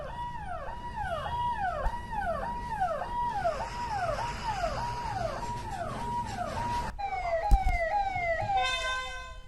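A fire truck siren wails in a fast rising-and-falling cycle, then switches to a quicker yelp, with a dog barking faintly in the background.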